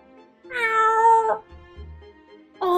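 A kitten meows in the game Choices: Stories You Play, two clear, drawn-out meows, the first long and loud, the second starting at the end, with a few soft low thumps between them.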